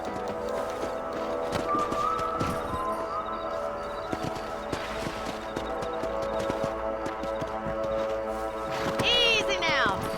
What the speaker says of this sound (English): Gotta mount my horse.